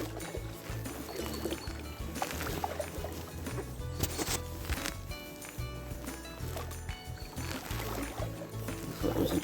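Paddling an inflatable kayak on a still canal with no current: soft, close paddle strokes and water drips and swishes repeat in an irregular rhythm, with no talking.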